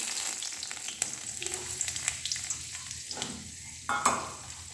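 Home-grown bay leaves, cut into pieces, tempered in hot oil; a quiet, steady sizzle and crackle close by, punctuated by a few sharp clicks and light utensil knocks, with no talking.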